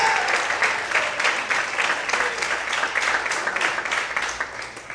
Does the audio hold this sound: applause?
yes